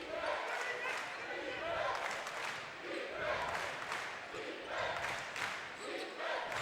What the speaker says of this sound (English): The crowd getting excited here in the Sports Center Arena.